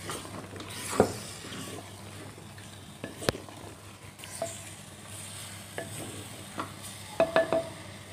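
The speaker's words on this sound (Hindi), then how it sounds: "अच्छी तरह मिक्स करांगे इनू असीं, मिर्च मसाला अच्छी तरह मिक्स हो जाए" Chili spice masala is stirred and mixed in a frying pot, soft low sizzling under a series of scattered scraping and clinking stirs, fairly quiet and close, no talk.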